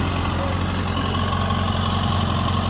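Kawasaki ZX-636RR sport motorcycle with its original stock exhaust, idling steadily with a continuous low rumble that holds even and near for the whole stretch.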